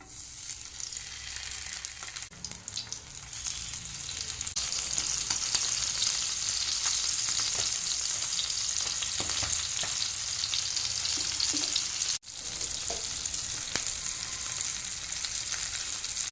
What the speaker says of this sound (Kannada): ಇವಾಗ ಬೇಗನೆ ಮೀನನ್ನು ಫ್ರೈ ಮಾಡ್ತೇನೆ